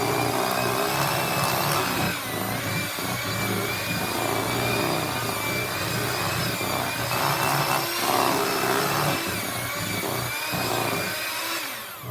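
An electric hand mixer beats cheesecake batter in a home kitchen, giving a loud, steady motor whine that runs the whole time, with slight changes as the beaters work through the mix. No one talks.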